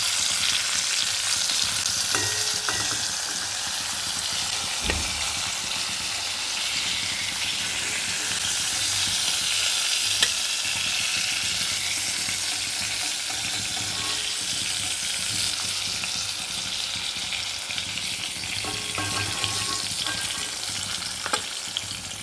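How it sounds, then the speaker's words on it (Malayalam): Ivy gourd (kovakka) pieces sizzling steadily in hot oil in a pan, a loud continuous frying hiss with occasional stirring knocks throughout. "കോവയ്ക്ക വലിയൊരു ഒരു പാകത്തിന് ഒന്ന് ഫ്രൈ ആയി കിട്ടിയാൽ മതി"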